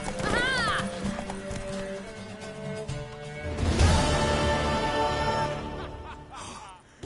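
In The Witcher 3 on PS4 Pro, a horse neighs and its hooves clip-clop at a gallop, close and prominent, with a second whinny near the end and game sounds around it.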